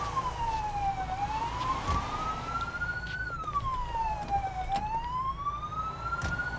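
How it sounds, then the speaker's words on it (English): A police car siren from the video game Police Simulator: Patrol Duty wails in a repeating rising-and-falling sweep, loud and continuous, with a low engine hum underneath. "Probably could have turned their siren off."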